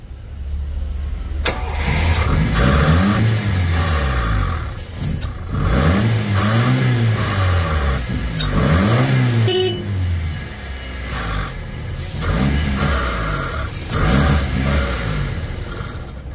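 A car's 2E engine, unable to hold an idle, is revved repeatedly in rising and falling surges, each burst of loud revving dropping back before the next, with no steady idle between them.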